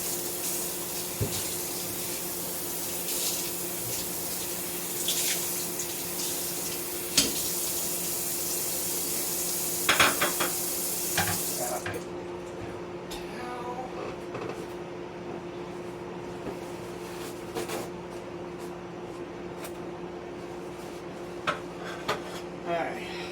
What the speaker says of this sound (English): I'm gonna clean a dish real quick here.